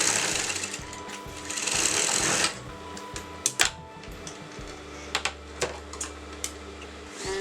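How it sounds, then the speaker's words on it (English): Sewing machine stitching a Patiala salwar, running loud and steady for about two and a half seconds, then a few short bursts and sharp taps with a low hum underneath; no voices. "And now I'm going to sew my next side of my salwar."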